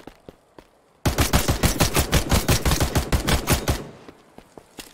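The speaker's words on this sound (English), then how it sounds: "Shotgun." Rapid burst of shotgun fire in the alpha video game Passed Out Prologue, a dense string of loud, evenly spaced bangs lasting about three seconds before fading out.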